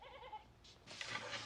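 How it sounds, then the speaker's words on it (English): A goat bleats once, a short wavering cry that is faint and somewhat distant against low background noise. "A goat."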